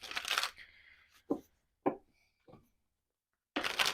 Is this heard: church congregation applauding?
no